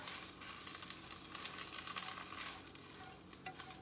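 Washed spinach stirred in a hot pan on a stovetop, giving a steady close sizzle with soft scraping stirs throughout.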